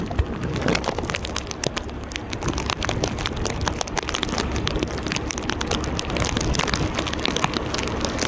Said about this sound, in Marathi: पाऊस थांबणार नाहीये.